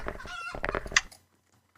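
A video-game chicken clucks in a quick run of close, bright clucks that stop abruptly, followed by near silence and a brief final sound.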